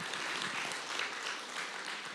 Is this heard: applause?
yes